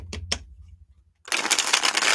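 Tarot cards are riffled in a fast, crisp shuffle close to the mic, preceded by a couple of soft taps and a brief pause, with no talking.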